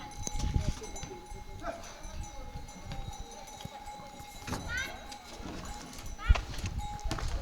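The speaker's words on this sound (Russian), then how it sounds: "Ослики поднимают камни." Donkeys carrying stones, with hoof clops and animal bleats over a busy outdoor bed of rattles and knocks, and people talking throughout.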